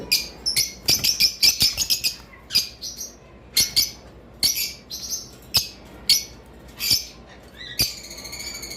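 Caged green Fischer's lovebirds chirp in quick, shrill, overlapping bursts at close range. The calls come thick at first and then continue more sparsely.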